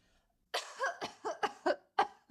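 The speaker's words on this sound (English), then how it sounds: "You cough very much, madam." After a brief silence, a person coughs repeatedly, about six harsh, close coughs in quick irregular succession.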